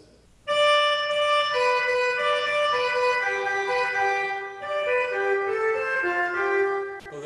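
A bright, reedy cornetto plays a slow, ornamented melody of sustained notes in an early Spanish dialogue piece, close and clear, with no voices.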